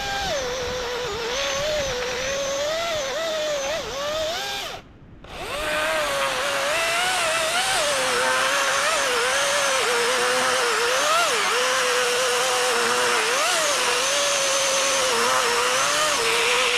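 A battery-powered chainsaw cuts a tree in -38°C cold in Canada's Northwest Territories, giving a steady, loud motor whine that wavers in pitch under load and cuts out briefly near the five-second mark before resuming.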